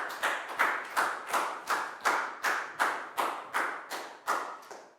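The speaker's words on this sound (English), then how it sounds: "Big round of applause for Pat, please, guys." A primary school maths class claps in unison for a classmate, making about ten crisp, evenly spaced claps in a steady rhythm, close and clear without talk.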